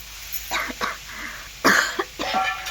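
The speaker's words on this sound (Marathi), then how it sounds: "बोलायला लागलं की खोकला येतो" Several short, harsh coughs in quick bursts, close by, with a brief pause before another cluster of coughing.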